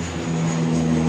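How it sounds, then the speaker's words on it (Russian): Two yellow propeller airplanes flying over a city in Spain, a loud steady droning engine hum with strong low tones, building slightly over the brief moment. "Какие-то желтые самолеты летают, два штуки."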